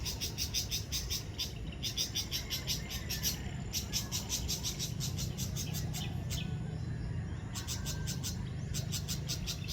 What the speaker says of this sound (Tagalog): Ang ingay ng ibon na yan guys.